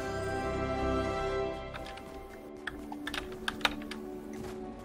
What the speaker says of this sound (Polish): czy ja znowu muszę grać na klawiaturze?